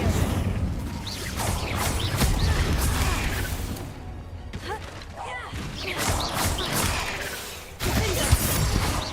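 Hogwarts Legacy's Incendio fire spell is cast amid combat, with repeated whooshing, crashing bursts and thuds across busy game audio, including a brief lull partway through.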